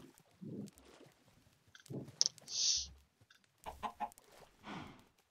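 Chickens in the Minecraft video game make short clucking calls, a few clucks and clicks spread across the clip with gaps of quiet between them, fairly close and clear with no talk over them.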